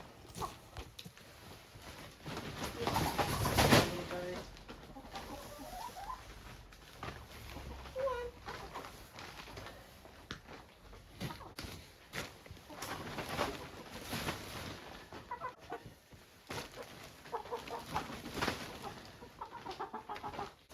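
Chickens cluck and squawk intermittently nearby as they are handled and moved into a tent in below-zero cold, amid rustling, handling noises and occasional voices.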